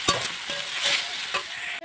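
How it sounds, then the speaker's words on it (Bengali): Spice paste frying with potatoes and onion paste in a pan, a bright crackling sizzle broken by several quick spoon taps and scrapes, close and brief, with no one speaking. "দেখো মশলাটা কষা হচ্ছে"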